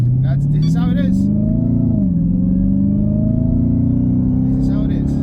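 A Dodge Hellcat Widebody engine rumbles deep and loud from inside the car, its pitch climbing, dipping briefly, then rising again in a sustained rev, with faint voices at the start and end.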